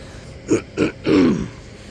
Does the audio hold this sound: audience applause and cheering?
no